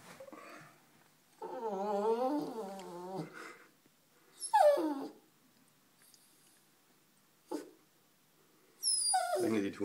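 A dog whimpers and whines in several separate bursts, high wavering cries broken by quiet pauses, fairly close.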